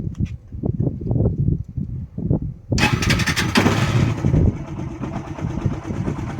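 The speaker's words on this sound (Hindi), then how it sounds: "इसके बाद हमें आइडल पे 10 मिनट स्टार्ट रखनी है बाइक" A Yamaha Fazer 150 motorcycle engine fires up and settles into a steady, close idle with a buzzy rumble, after some low thumping handling sounds, during an oil change service.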